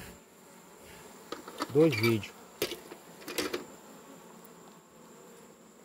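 Bees buzzing around a hive while red honey is being harvested, a steady insect drone with a few louder close passes, briefly under a voice.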